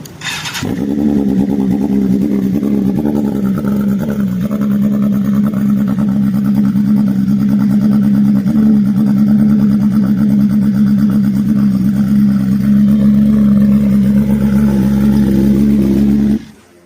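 A 2021 BMW S1000RR sport bike fires up with a sharp start, then settles into a loud, steady, close idle with rhythmic revving pulses that holds for about fifteen seconds before cutting off.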